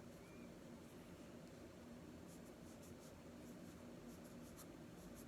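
A pen scratches steadily across paper while a bullet journal page is set up, a quiet continuous scraping over a soft background hiss.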